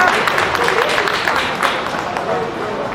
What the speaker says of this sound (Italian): Allora fate un applauso a me di incoraggiamento